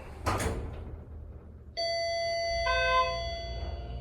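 Arrival chime in a modernized Schindler hydraulic elevator in a mall parking garage: a bright doorbell-like ding-dong whose two ringing tones sustain and decay, after a short clunk, with low cab rumble beneath.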